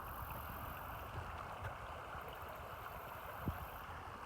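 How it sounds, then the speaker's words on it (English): A small creek flows beneath a cable trail bridge in the woods, a soft, steady gurgling wash heard faintly from nearby, with a slight knock or thump partway through. "nice little creek it goes across."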